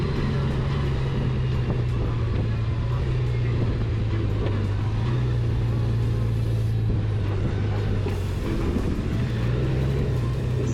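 A 2020 Honda GoldWing Tour DCT motorcycle on the move: a steady low engine drone with constant road and wind rumble, and slight pitch dips suggesting gear shifts.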